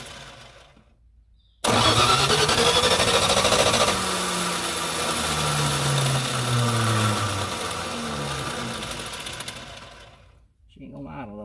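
An abandoned Plymouth Duster that sat for two decades with its hood up fires up and runs loud and rough, revving unevenly for several seconds without settling to an idle, then cuts out, with faint talk before and after.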